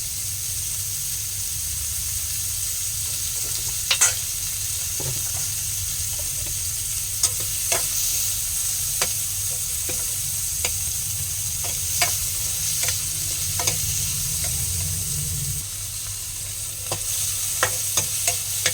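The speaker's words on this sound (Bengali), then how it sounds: "পেঁয়াজগুলো ভাজা ভাজা হয়েছে" Onions fry in a pan of hot oil with a loud, continuous hissing sizzle, broken by occasional scrapes and taps of a spatula as they are stirred, close up and without speech.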